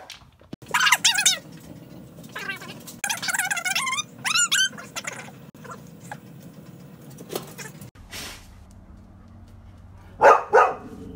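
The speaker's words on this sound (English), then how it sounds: "What's she barking at?" A dog barks indoors in a few sharp, close bursts, spread among quieter rustling and pattering sounds, with a short louder burst near the end.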